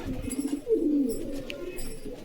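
Pigeons coo nearby, with a clear rolling coo in the middle and softer calls around it, quiet overall.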